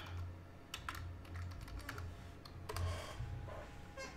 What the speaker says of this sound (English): Got a little keyboard here.